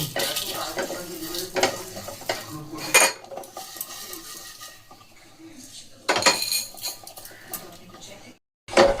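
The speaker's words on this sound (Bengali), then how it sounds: "অল্প একটুখানি জিরে, একটু ধনে, অল্প একটু জোয়ান, একটুখানি মৌরি। ব্যাস, এগুলোকে আমি এখন ভেজে নেব।" Cumin, coriander, ajwain and fennel seeds fry in a pan, with a light sizzle broken by loud clinks and scrapes of a metal spoon against the pan, close up, pausing into near silence toward the end.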